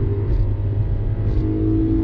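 A 2011 BMW E90 M3 engine drones and rumbles under throttle from inside the car, a loud, steady low growl with slight rises in revs.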